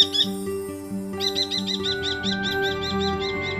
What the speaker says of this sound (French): Aujourd'hui, le faucon cresserelle.